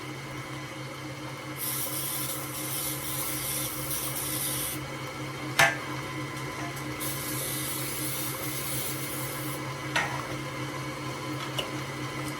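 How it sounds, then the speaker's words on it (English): Two long hissing bursts of Baker's Joy baking spray onto cake pans, each a few seconds, with a couple of light clanks between and after. "so I'm going to go ahead and spray my pans with my Baker's"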